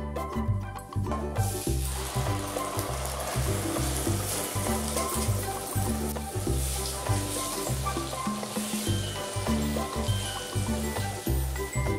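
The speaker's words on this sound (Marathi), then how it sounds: "ही पेस्ट आहे ना, आपल्याला 5 ते 7 मिनिटं कमी गॅसवर खूप छान अशी परतून घ्यायची आहे" Masala paste sizzles and crackles steadily in hot oil left over from frying paneer, cooking over low heat in a home kitchen, a continuous close frying hiss with a rhythmic low thumping underneath throughout.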